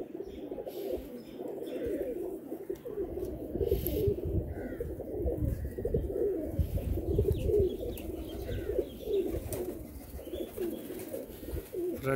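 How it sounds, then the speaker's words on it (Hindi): Nankana pigeons coo softly and repeatedly at close range, overlapping low throaty calls with some rustling and faint background noise. "देखिए जी ये ननकाना वाले कबूतर हैं ये भी,"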